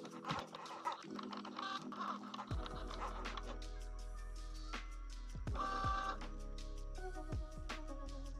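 A vinyl cutter cutting a sticker decal: quiet motor whirs and stepping, printer-like scratching moves, short bursts and pauses, fairly faint and close, with no talking.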